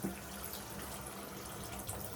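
Water poured into a pan for Tamil-style egg gravy in a bachelor kitchen, a steady close splashing stream running throughout at moderate level.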